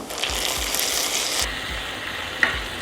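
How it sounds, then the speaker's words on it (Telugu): Grated mango frying with curry leaves, peanuts and dried chillies in a pan, a steady close sizzle with periodic scraping stirs and one small sharp clink. "ఒక 2 minutes పాటుగా ఫ్రై అయ్యాక గ్రేటెడ్ మ్యాంగోని యాడ్ చేసుకుందాం."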